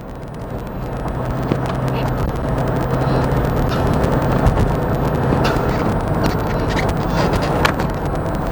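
A 2013 Toyota Fortuner 3.0 V 4WD, a used top-trim diesel SUV, driving in four-wheel drive: a loud, steady engine drone and road rumble from inside the cabin, building slightly and holding without pause.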